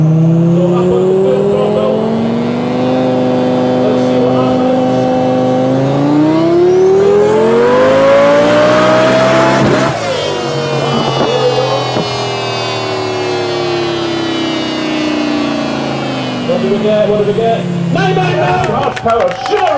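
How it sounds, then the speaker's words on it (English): A Lamborghini Gallardo engine revs hard at full throttle, its pitch sweeping steadily upward to a screaming peak and then falling away. A loud, close, continuous roar with a faint voice or two underneath. "So up on the full throttle. Let's see what happens."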